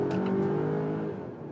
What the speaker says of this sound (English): And you also hear the combustion engine then.